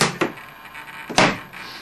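Gear doors on a Skymaster Hawk 100 RC model jet snap shut under a sequencer, making two distinct close thunks about a second apart over a faint mechanical hum.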